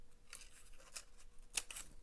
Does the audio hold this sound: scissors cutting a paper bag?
yes